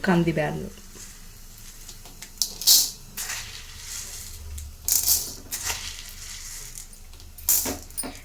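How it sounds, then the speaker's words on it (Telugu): Urad dal, chana dal and spices dry-roasting in a pan on low heat for homemade sambar powder, giving faint scattered crackles and scraping stirs with occasional louder clinks, close and fairly quiet. "వీటిని అన్నిటినీ మనము దూరగా వేయించుకోవాలండి సిమ్లో పెట్టుకొని మనం దూరగా వేయించుకోవాలి"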